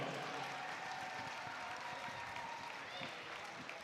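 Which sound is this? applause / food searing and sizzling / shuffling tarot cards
applause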